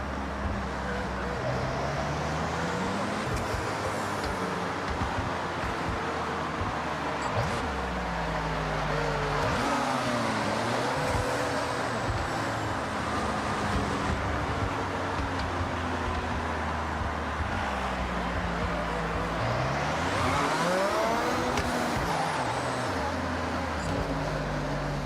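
A BMW M3 engine in Forza Horizon drones and revs up and down through gear shifts at steady volume, with road and wind noise, while a person talks over it.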